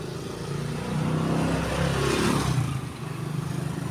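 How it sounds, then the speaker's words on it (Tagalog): Traffic on a Philippine street under dark, rainy-looking skies, with motorcycles and tricycles passing close by, their engines swelling into a loud rumbling rush and then easing away, continuous throughout. "Ayan ang mga dumadaan ditong sasakyan."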